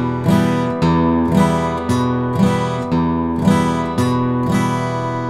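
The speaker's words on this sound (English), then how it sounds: "what I'm doing is hitting the E, then I strum the rest of the chord" A country-style guitar pattern alternates single bass-note hits with strums of the rest of the chord, repeating in an even, steady rhythm about once per second.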